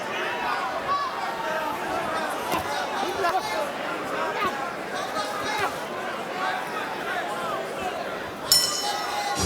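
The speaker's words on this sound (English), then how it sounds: "Big crowd has come out here in what has been an exciting night in Atlanta at State Farm Arena to see this world title fight" A big crowd at a world title boxing fight in State Farm Arena, Atlanta, fills the background with a steady, distant murmur of chatter and clinks while a commentator talks over it.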